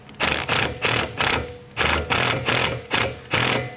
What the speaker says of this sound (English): Now you can just tighten up that bolt with that wire clamp. This is going to be a 7/16 socket and wrench.